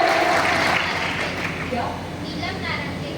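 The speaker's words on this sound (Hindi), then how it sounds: "ताली बजाएं हमारे बच्चों के लिए।" An audience at a student merit award ceremony claps steadily for the students, with a person's voice speaking over the applause throughout.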